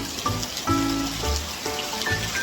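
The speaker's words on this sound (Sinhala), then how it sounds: "පුදුම වැස්සක් නේ" Heavy rain pours steadily over the scene, a dense hiss of drops lasting the whole moment, with a few faint clattering hits on a nearby surface.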